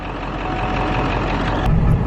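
A bus engine runs loud and steady, a dense broadband rumble filling the whole clip with no talking, rising slightly near the end.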